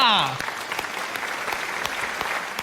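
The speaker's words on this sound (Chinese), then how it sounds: "鼓掌" A studio audience applauds through a Taiwanese political talk show segment about Taipei city councillor Wang Shih-chien, with a steady wash of clapping under a brief trailing voice at the start.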